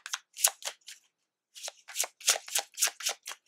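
A deck of oracle cards being shuffled up close, quick papery riffles in two bursts separated by a brief pause, crisp and rhythmic, with no talking.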